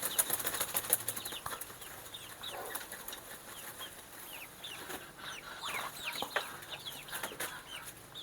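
Free-range village chickens pant, cluck and chirp in a busy coop on a hot day, with occasional wing flaps and rustling; steady farmyard noise with no talking.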